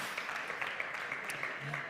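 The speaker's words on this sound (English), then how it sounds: "Big applause for them, please." Audience applause at a live show, a faint, steady patter of clapping from a room of people, fairly distant and even throughout.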